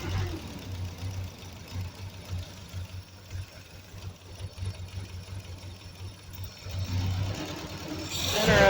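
A high-compression Triumph Spitfire 1500 engine runs cold and bogs, a steady low idling drone with rough uneven pulses that rises in loudness toward the end.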